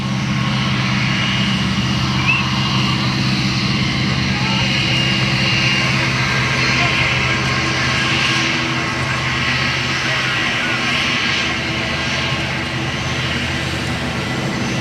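A Jetstar airliner at Gold Coast Airport gives a steady, loud engine roar that fills the whole stretch. The noise holds even, with no clear talk over it.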